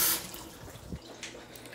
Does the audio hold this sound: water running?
yes